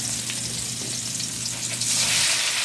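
Ground pork giniling fries in a hot pan with a loud, dense sizzle that swells stronger near the end, heard up close and with no voices.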